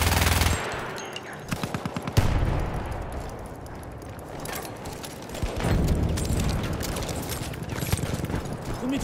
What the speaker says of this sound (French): Une mitrailleuse hostile.